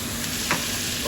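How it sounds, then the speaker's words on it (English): Fillet steak sizzles steadily in a pan while being basted, a close, continuous frying hiss with a brief brighter flare midway and no talking. "So I'm carrying on basting this, keeping my eye on the fondant."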